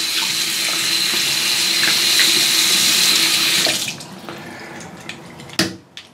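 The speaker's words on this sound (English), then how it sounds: "You can flush water through the whole thing" Water flushed through a telescopic fishing rod, a loud continuous gushing splash like a running tap for about four seconds, then stopping into a few drips and a small knock.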